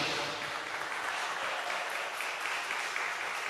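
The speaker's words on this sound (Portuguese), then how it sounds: "Dá um aplauso para Jesus," A church congregation claps steadily and loudly, a dense wash of applause that holds at an even level throughout.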